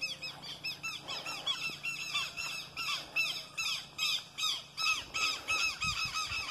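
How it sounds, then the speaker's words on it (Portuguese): Loud, repeated shrill squawking calls from several tetéu lapwings close by on a farm in Piauí, Brazil, overlapping in a rapid, insistent chorus. "Esses pássaros aí, ó, pessoal, que vocês estão vendo aí, ó, fazendo esse barulho, é tetel"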